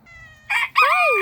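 A farmyard rooster crows loudly and close, a held tone followed by a rising then falling cock-a-doodle-doo call, with no voices over it.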